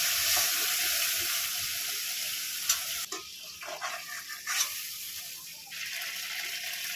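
Prawns fry in hot oil with a loud, steady bright sizzle, then a few spatula scrapes and shifts as the sizzle briefly thins before settling back.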